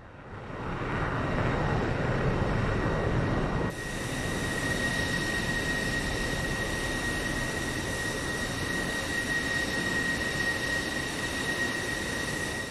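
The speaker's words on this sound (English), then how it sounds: "Jet sounds coming at you this Wednesday morning." Jet aircraft engines roar in the DCS World flight simulator during a formation flight display, a loud steady wash of engine noise with a sharp shift partway through, then a sustained whine continuing with no talk.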